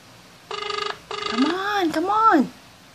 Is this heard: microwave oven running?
no